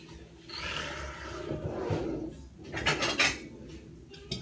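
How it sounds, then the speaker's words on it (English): A knife scrapes and clinks against a plate while cutting warm roti, with soft rubbing and a few brighter scraping strokes, close by and moderately quiet, with no talk. "And we'll cut it on this plate"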